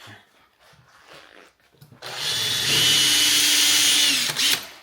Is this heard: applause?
no